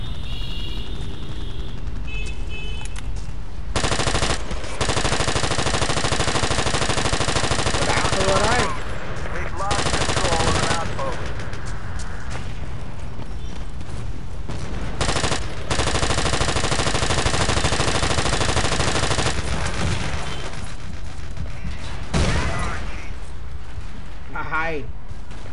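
Machine gun fire and explosions in Battlefield 2 during a 16 vs 16 match, loud bursts recurring across the clip with someone talking over the combat.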